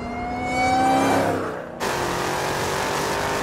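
A powerful Dodge car engine revs up to a sustained loud whine, dips briefly, then settles into a steady droning run close by.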